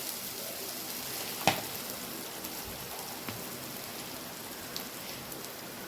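Mint and curry leaves frying in a pan, a soft steady crackling sizzle heard close, with one sharp clink early on and a few faint taps, no voices.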